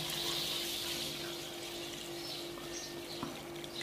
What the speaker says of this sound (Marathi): आपण पाणी ओतू याच्यात.